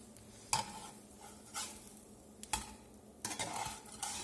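A grilled cheese sandwich cooks in a pan with a soft background sizzle, broken by several distinct scrapes and clatters as it is shifted and turned, fairly quiet overall.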